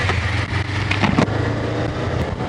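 A Suzuki V-Strom 250 motorcycle pulls away, its engine note loud and close, a steady low drone rising slightly as it moves off, with no speech.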